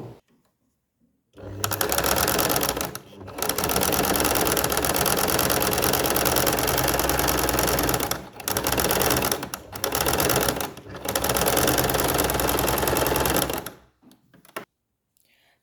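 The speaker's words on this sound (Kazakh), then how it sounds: "түзу тігіспен тігіп шығамын." A sewing machine runs a straight stitch along the seams of a fabric bag. It whirs loudly and steadily in long runs, with a few short pauses between bursts and no talk.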